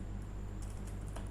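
Typing on a computer keyboard while coding, faint quick key clicks over a low steady background hum, brief and close.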